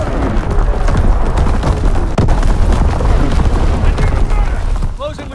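Artillery strike explosions in the video game Call of Duty: WWII, a dense barrage of booms and blasts rolling continuously with sharp impacts, loud and sustained, with in-game radio voices talking over it.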